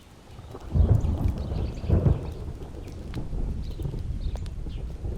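Rain falling steadily with two deep rolls of thunder close together early on, followed by continuous heavy rain hiss and low rumbling.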